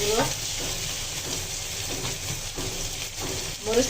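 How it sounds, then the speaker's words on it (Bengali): Snakehead fish frying in a pan with ginger paste, garlic paste, turmeric and chili powder, giving a steady, close sizzle throughout with occasional stirring scrapes. "শোল মাছটা ভেজে নেব।"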